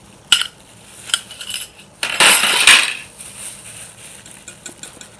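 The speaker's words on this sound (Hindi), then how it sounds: "आपको बिल्कुल उसी तरह अंडों को फेंटना है" Eggs are whisked in a bowl for a French toast batter with green chilli and salt, giving light metallic clinks and a short burst of fast, close scraping and tapping.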